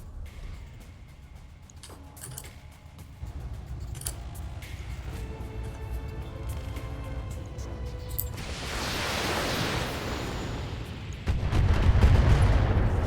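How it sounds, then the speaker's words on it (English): Long-range missiles fire in the BattleTech video game, a layered rumbling barrage that swells into a roaring rush and ends in heavy low booms, loud and continuous without speech. "Some long-range missiles in now."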